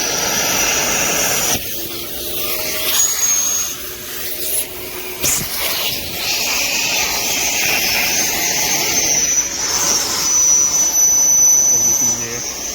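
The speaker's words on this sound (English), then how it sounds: "they make a really terrible noise when you hook them up to the vacuum" A MAXXT brushless 350W random orbital sander whirs with a rough, rubbing buzz while a thin, high whistle from an attached vacuum rises and falls over it.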